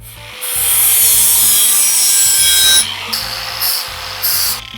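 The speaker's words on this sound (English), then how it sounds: "Clean that up with the flapper." A flap disc on an angle grinder sands and cleans up metal on a truck job, a loud harsh grinding roar in long bursts with short pauses between passes.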